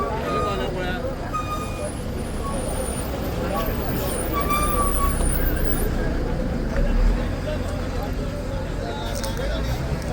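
Road traffic at Peddem highway junction, where a truck blocks the highway, forms a continuous roar of passing vehicles. Occasional horn tones sound above it, and crowd voices chatter steadily underneath.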